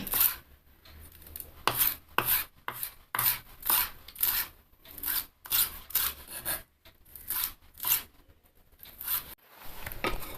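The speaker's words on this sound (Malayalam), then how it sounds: "ഇനി മല്ലിയിലയും ഇതുപോലെ ചെറുതായി ഒന്ന് അരിഞ്ഞെടുക്കണം." Fresh coriander leaves chopped finely with a knife on a board, a fast run of crisp, close cuts in bursts with short pauses, no voices.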